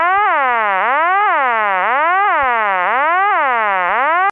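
A Bell System vacant code telephone tone, loud and continuous, warbling up and down in repeating cycles like a siren, with no voices.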